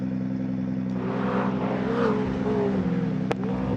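A McLaren drift car revs hard at a Polish drift competition final in Poznań, its engine a steady loud roar with rising and falling revs against a continuous crowd-and-track background, no talk.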